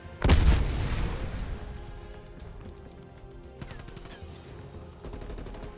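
A grenade explosion in the Call of Duty Cold War campaign, a sudden loud close boom trailing into rumbling debris, followed by scattered distant gunfire bursts and a final volley of shots.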